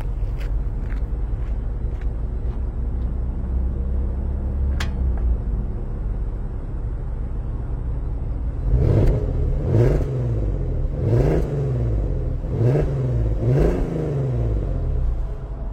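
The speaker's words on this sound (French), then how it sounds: "C'est un bon petit bruit de 4x4 V6 en fait" Porsche Cayenne V6 SUV, engine not fully warm, idling steadily before giving several short throttle blips from about nine seconds, each rev rising and falling in a close, loud, regular series with no talk.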